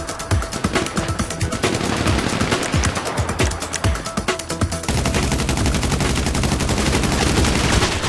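Automatic gunfire in GTA V Online Adversary Mode aimed at a juggernaut, long sustained rapid bursts that merge into a continuous dense roar midway, loud and up close with no voices.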